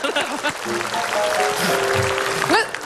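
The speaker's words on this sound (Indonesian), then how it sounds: "Oke, tepuk tangan dulu dong." Studio audience at an Indonesian comedy talk show claps in a broad, continuous wash of applause that runs throughout, with voices speaking over it.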